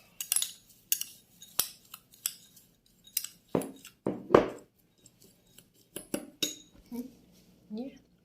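A spoon clinks and scrapes against a bowl while mixing two small spoonfuls of sugar into a dough mixture, giving irregular bursts of close, sharp metallic taps and clatter separated by short pauses.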